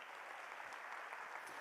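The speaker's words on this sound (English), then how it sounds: "One more round of applause" A school concert audience claps steadily, a dense, even patter of many hands heard from a distance without a break.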